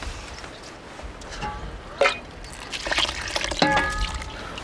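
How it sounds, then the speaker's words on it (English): Water pours onto a grain mash for brewing, a soft liquid splashing and trickling with a few brief louder gushes and drips, fairly close and moderately quiet, with no talking. "Pour the rest of that water on the top of this."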